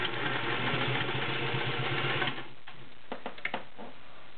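A Singer 500A Rocketeer slant-needle sewing machine with a size 16 needle stitches through ten layers of cotton, giving a fast, even mechanical whirring for about two seconds before stopping, followed by a few soft clicks.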